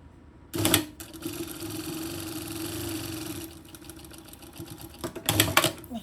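A sewing machine runs a straight line of stitching along a linen bucket bag, a steady mid-pitched whir lasting several seconds, framed by short louder bursts at the start and end, with no talking.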